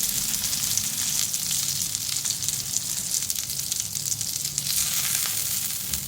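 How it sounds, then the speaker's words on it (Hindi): Chicken sizzling on a grill pan in a home kitchen: a steady, close, crackling hiss of frying that continues evenly throughout with small spits and pops, with no talk over it. "चिकन ग्रिल हो गई है, अब मैं इसको निकाल लूँगी।"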